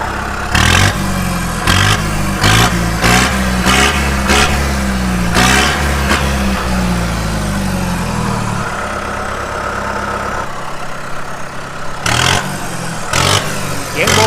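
A Kubota-style MU 5501 farm tractor fitted with an original-type turbo kit idles loudly nearby, then breaks into a string of sharp, repeated throttle revs, settling to a steady idle before two more bursts near the end.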